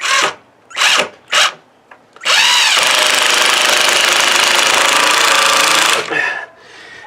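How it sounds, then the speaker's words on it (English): An impact drill drives screws into the wood of a raised garden bed, first in three short bursts, then in one long, loud, steady whine of about four seconds, up close and alone. "And that's why I like impact drills."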